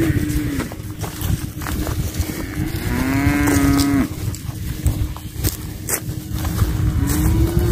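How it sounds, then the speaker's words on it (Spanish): A bull on a cattle farm lows several times, deep drawn-out moos close by, over wind and rustling outdoor noise with occasional footsteps. "Ahí está el otro toro."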